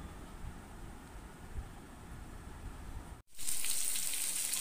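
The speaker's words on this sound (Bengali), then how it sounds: "আলু পটলটা আমি ভেজে নিচ্ছি।" Potato and pointed gourd fry in hot oil in a pan, a steady close sizzle that suddenly cuts out briefly and then returns much louder and brighter.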